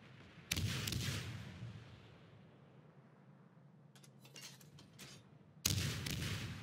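Ship guns in World of Warships firing at a battleship, two heavy booming salvos a few seconds apart with rumbling tails and some faint crackling hits in between, no talking.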